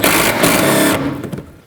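A power driver spins out a 10mm bolt near the fender on a 2007-2009 Saturn Aura bumper, making a loud, close whirring buzz for about a second that then tapers off into fainter rattling.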